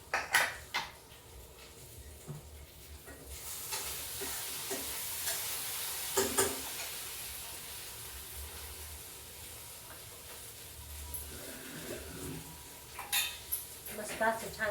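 Fish curry masala heating in a pan before the basa fish goes in, with steady simmering and sizzling hiss, metal clinks of a utensil against the pan, and brief bursts of stirring noise close by.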